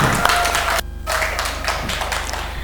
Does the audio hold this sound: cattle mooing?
no